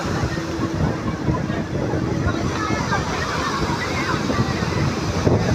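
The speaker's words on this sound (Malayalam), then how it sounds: "അതിശക്തമായിട്ടുള്ള തിരമാലകളാണ്" Strong ocean waves at Kovalam beach, a continuous loud roar of surf with wind buffeting the microphone, close and unbroken.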